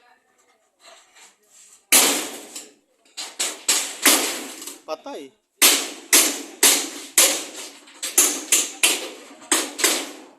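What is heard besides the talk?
hammering while installing galvanized iron roofing sheets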